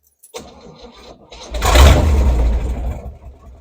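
A choked 1978 Chevrolet K10 with a 305 cubic-inch V8 cranks briefly, then fires and catches into a loud rumbling run close by.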